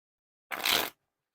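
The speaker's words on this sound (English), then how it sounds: "the Wiffle Shuffles and Bridge Shuffles" A single short riffle of Red Bee Metalluxe playing cards, a quick papery burst of flicking lasting under half a second, close and isolated in silence.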